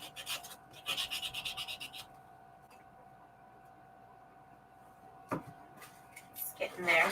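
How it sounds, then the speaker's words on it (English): Sandpaper rasping over a journal cover during prep, two bursts of steady scratchy strokes, the first about two seconds long, then a quieter pause and a shorter sharp scrape, close and fairly loud with a faint hum underneath. "Easier just to sand it off."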